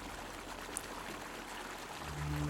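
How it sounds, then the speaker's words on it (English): A trickling stream of water in the woods, a steady, fairly soft broadband flow that holds evenly throughout and swells slightly near the end, with no voices. "As you begin to notice a sound, it sounds like a trickle of water."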